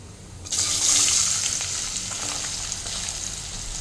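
Potato pieces drop into hot oil beside a frying fish head, setting off a sudden loud sizzle that settles into a steady, hissing fry.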